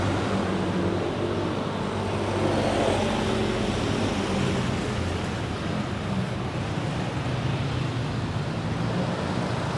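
Dense street traffic in San Pablo, Philippines: a continuous, fairly loud wash of engine rumble and road noise from passing vehicles, steady throughout with no talking.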